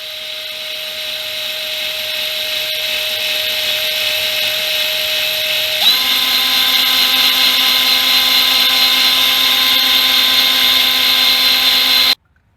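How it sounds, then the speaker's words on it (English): A power tool runs steadily while tapping threads into a Yamaha Blaster ATV carburetor, a loud continuous whine that shifts pitch once partway through and cuts off abruptly near the end. "We'll tap threads in there."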